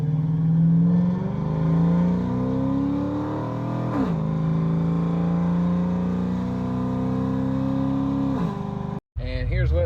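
Chevrolet Silverado 4x4 with an equal-length exhaust and Dynamax mufflers revving, a deep rumble climbing in pitch through two throttle blips and settling back to idle, close and loud before cutting off abruptly near the end.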